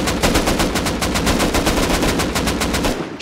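Rapid automatic gunfire in the survival video game Rust, a dense stream of loud, evenly spaced shots lasting about three seconds, close and continuous before cutting off.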